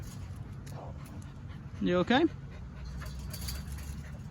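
A pet dog whimpers close by, a short whining yelp-like sound in the middle with faint panting and background noise around it; a person speaks briefly to the dog.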